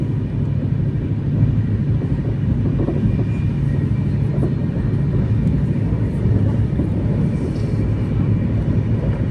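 IRCTC Tejas Express running at about 130 km/h through Anand railway station on the line towards Godhra, heard as a steady, loud, continuous low rumble and roar from on board, with no talk.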